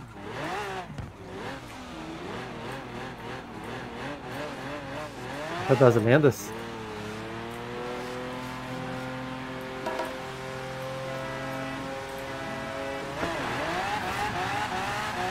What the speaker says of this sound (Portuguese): esse carro anda demais!